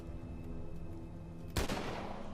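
A single sniper rifle shot cracks out loud and sudden in the zombie video game The Walking Dead Survival Instinct, a sharp burst that decays into a rumbling tail over a steady droning game background.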